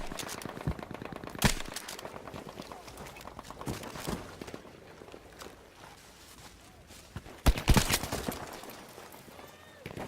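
Gunfire in the video game Battlefield 5, scattered sharp shots and rapid bursts, two of them loud and close, mixed with busy game noise and a voice talking over the action.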